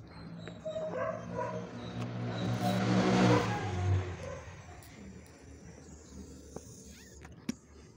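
A Yamaha XTZ 125 motorcycle engine with a badly set, leaking carburetor runs close by, sputtering and blowing, rising to a rough rev and then settling back, with a couple of sharp clicks near the end.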